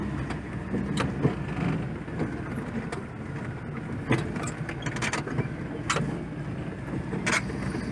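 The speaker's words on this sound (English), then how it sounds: "rev the motor." A heavy four-wheel-drive truck in low range grinds up a steep farm road, its engine rumbling steadily and loud, with scattered clicks and knocks from the cab over the drone.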